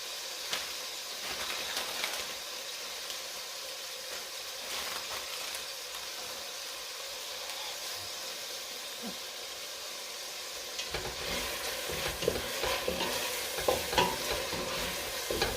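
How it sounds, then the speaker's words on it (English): A spinach dish with nutmeg and a bay leaf sautés in a pan, a steady hissing sizzle that grows busier near the end as stirring scrapes and taps join in, close and without speech. "And we're sauteing for about 5 minutes or so, okay? Because we want our ingredients to cook."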